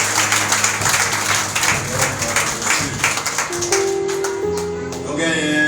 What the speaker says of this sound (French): Applaudissons le Seigneur très fort